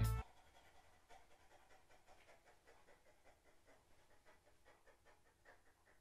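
A person imitates a small dog panting, with fast, faint, rhythmic breaths that continue evenly after a brief louder burst at the start.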